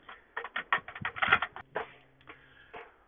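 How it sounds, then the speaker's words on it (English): Clicks and clacks of plastic sound close up as a cassette tape slides into a tape deck, a quick run of rattling taps ending in a firmer snap and a faint later click. "you would insert your cassette tape into your tape deck"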